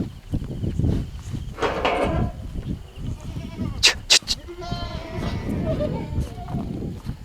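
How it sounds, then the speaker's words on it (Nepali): Boer goats on a farm holding about two hundred animals bleat several times, with a pair of sharp, close cries near the middle, under someone talking and general farmyard noise. "करिब 200 वटा बाख्रा छ यहाँ हजुर"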